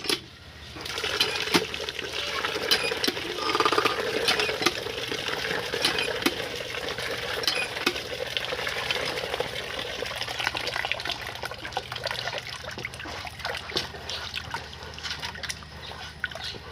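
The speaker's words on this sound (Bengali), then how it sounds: "বালিগুলো এইভাবে 2-3 বার ধুয়ে নিয়ে ব্যবহার করতে পারেন।" Water sloshing and gushing steadily over sand being rinsed for rooting lemon cuttings, a continuous close wash with small splashes and trickles and no talking.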